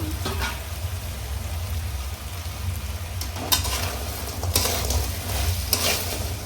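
Cabbage and cauliflower being stir-fried for veg gobi Manchuria, a steady loud sizzle with scraping stirring strokes throughout, no voices.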